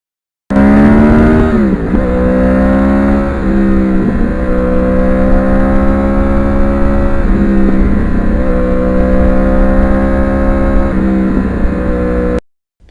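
A restored Kawasaki ZX7R Ninja sport bike on a ride, its engine droning steadily and loud with a few brief dips and recoveries in revs, close and continuous with no talking.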